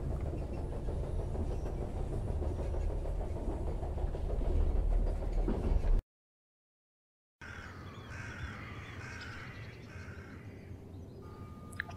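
A train in the video game The Charnel House Trilogy rumbles steadily and loudly as it slows, then cuts to a quieter outdoor ambience where crows caw now and then.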